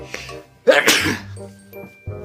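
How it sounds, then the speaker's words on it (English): A sharp, explosive sneeze bursts out once, loud and close, between quieter murmuring voices. "he hears a sneeze"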